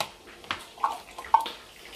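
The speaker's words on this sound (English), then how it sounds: "I will use hot water to rinse the corn." Hot water from a tap splashes over corn in a kitchen while it is rinsed for Nigerian fried rice, soft intermittent splashes and trickles at close range with a few sharper drips.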